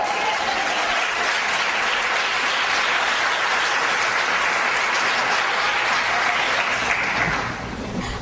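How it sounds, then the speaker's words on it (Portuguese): A church congregation claps steadily and loudly for about seven seconds, the sustained applause tapering slightly at the end with no voices over it. "Aplauda Jesus."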